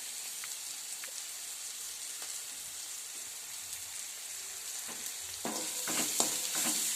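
Masala frying in oil for a rustic matki curry, with tomato already softened in the pan: a steady soft sizzle with stirring scrapes, growing louder and busier near the end, and no talk.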